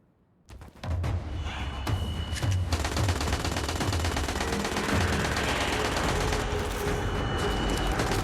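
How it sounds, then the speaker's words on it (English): Gunfire in the video game Destiny Rising erupts after a short quiet start into a dense, continuous barrage of rapid automatic shots and thuds, loud and sustained to the end, with no speech. "They're shooting their allies?"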